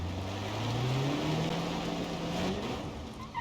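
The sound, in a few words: AI truck moving in video game BeamNG.drive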